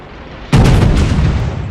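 A single heavy naval gun salvo from a battleship in the World of Warships game, one sudden loud boom that rolls on with a rumbling tail; no talking.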